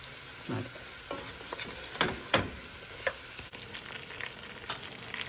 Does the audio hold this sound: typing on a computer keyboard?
no